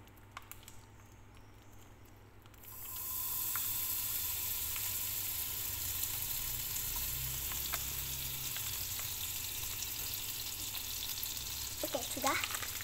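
Roti dough dropped into a pan over a very low flame, a quiet stretch giving way to a sudden steady sizzle and crackle that persists, with light scraping near the end.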